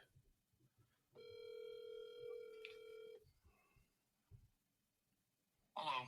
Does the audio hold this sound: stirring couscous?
no